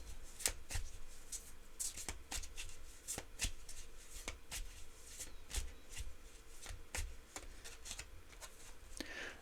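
Tarot affirmation cards being shuffled by hand, a steady run of crisp riffling snaps and soft flutters close up, with no voices.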